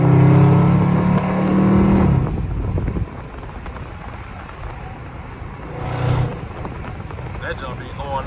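Dodge Charger Scat Pack with an extremely loud exhaust, rolling in fourth gear in traffic: a loud engine roar for about two seconds, a quieter drone, then a second brief burst, with people talking over it.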